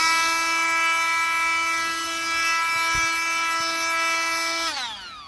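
An old Ryobi inflator blower runs loud and steady with a high whining motor tone and rushing air, then spins down near the end.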